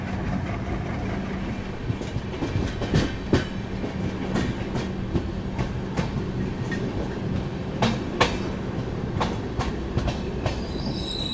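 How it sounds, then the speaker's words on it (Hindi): Haripriya Express between Tirupati and Kolhapur passes on an adjacent line near Hubli, a steady rumble of rolling train wagons with rhythmic clickety-clack wheel impacts and occasional sharp metallic clanks, close and continuous with no talk. "अभी हरिप्रिया एक्सप्रेस गई जस्ट वहाँ से, उस लाइन से तिरुपति कोल्हापुर हरिप्रिया, कोल्हापुर तिरुपति हरिप्रिया गई।"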